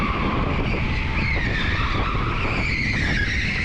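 Electric go-karts at TeamSport Preston race around an indoor track, a continuous loud whine of motors with tyres squealing and skidding through corners, no voices.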